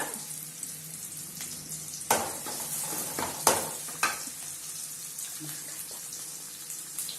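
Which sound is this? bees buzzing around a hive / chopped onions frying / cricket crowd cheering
chopped onions frying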